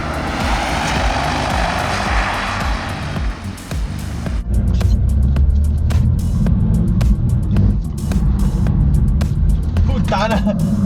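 A BMW M2 Competition drives and drifts, its engine a steady loud roar with tire and wind noise throughout, rising in intensity midway while repeated sharp clicks or knocks punctuate the din.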